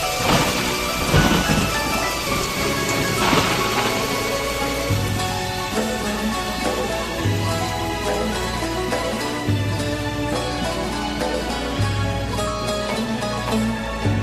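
Heavy rain pours while thunder rolls and rumbles, a loud, dense downpour with a low booming roll running the whole length, and music plays along underneath.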